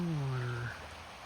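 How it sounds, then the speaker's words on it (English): Rapidly flowing stream water rushes beside the Montour Trail in October, a steady, faint broadband wash, with a brief voice-like tone at the start. "Rapidly flowing water."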